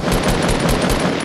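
Fast repeated gunshots in the video game Fortnite Battle Royale, a loud steady rattle of automatic fire lasting the whole short clip.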